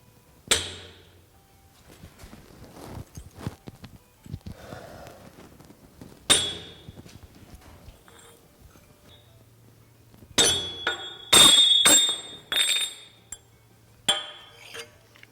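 Hammer blows on a knife assembly of titanium and zirconium parts, sharp metallic strikes with ringing clinks, several spaced hits followed by a closer burst of rapid taps, loud and near with no talk.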